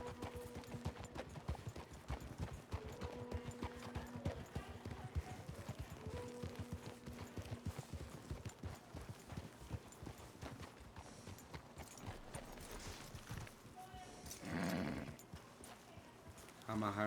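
Horse hooves clip-clopping steadily in Red Dead Redemption 2, with a brief whinny near the end, under game music and a voice talking throughout.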